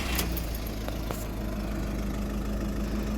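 A car engine idles steadily nearby with a low, even rumble, a few faint clicks near the start.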